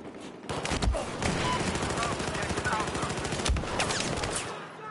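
Dense automatic gunfire rattles almost continuously in a Battlefield 4 Hardline match, with sharp bursts and sporadic louder shots layered over a busy, noisy game mix.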